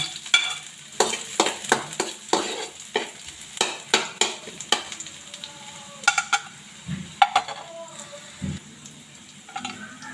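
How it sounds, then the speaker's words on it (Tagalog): Garlic frying in a pan for squid adobo, a crackling sizzle punctuated by a regular series of sharp spatula strikes and scrapes, close and fairly loud. "Lagyan na natin yung bawang"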